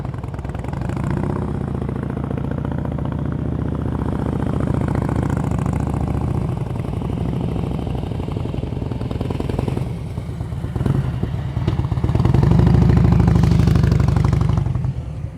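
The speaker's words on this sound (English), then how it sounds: "His motorcycle's not quiet either, so I can hear if he's not keeping it loaded." Motorcycle engine during slow-speed riding practice, a steady loud drone close by that stays level and swells briefly toward the end, with no talk.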